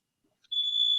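A household smoke detector goes off while food is being cooked nearby, a sharp, steady high-pitched electronic tone that cuts in after a couple of faint clicks and holds continuously, loud and close, with no talking.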